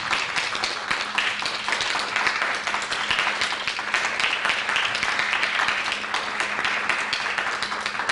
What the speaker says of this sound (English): I'd like to give Dr. Edwards a clear round of applause and appreciation for the training.